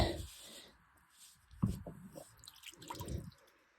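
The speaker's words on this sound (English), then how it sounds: "It'll start filling up now, so I'll start filling the towel rail up." Water trickles and drips into a towel radiator on a gravity-fed heating system as it refills after the loft bungs are pulled, faint and irregular with a few louder splashy gurgles.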